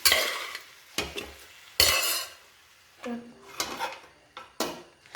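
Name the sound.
stirring cooked mutton intestines into masala in a pan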